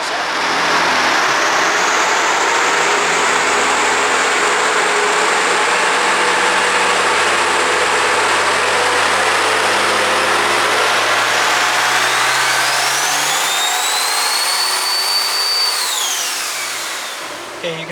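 A heavily modified 2012 dually truck engine roars on a dyno, a loud sustained wail climbing in pitch under load before easing off near the end.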